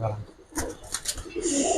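Giribaz coloring pigeons coo nearby in soft, throaty bursts, a few repeated calls close together with a low murmuring quality.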